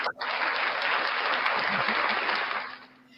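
Steady applause from a small group, clapping fills about three seconds before fading out at the end.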